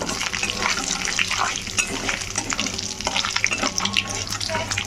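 Food frying in hot oil in a pan for a chicken curry, heard up close as a dense, steady crackling sizzle with occasional faint stirring, and no one talking.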